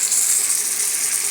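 Fish dropped into hot oil with fried onion, garlic and ginger, a loud, steady hissing sizzle filling the brief moment.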